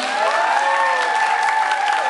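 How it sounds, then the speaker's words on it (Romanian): Audience applause at a Romanian stage performance, steady crowd clapping with a faint held musical tone lingering underneath, moderately loud and continuous. "Aplauze pentru ei, pentru că merită!"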